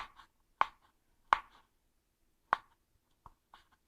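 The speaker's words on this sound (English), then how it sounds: "So I'm cutting it up, and it's about like this size." A knife chops through leftover pork on a cutting board in sharp, well-spaced strokes, five or six distinct cuts, close and clear in a quiet kitchen.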